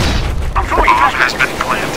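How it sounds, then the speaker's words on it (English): A grenade explosion in the video game CS:GO: a deep, loud boom at the start, followed by a rumbling tail with talk-like sounds over it. "I'm throwing a grenade"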